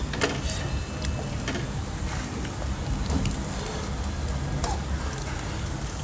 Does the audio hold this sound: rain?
yes